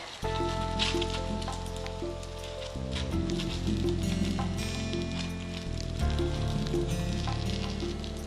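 Onion paratha with butter sizzles steadily on a pan over medium heat, a continuous close crackle under a sustained background music bed with changing tones.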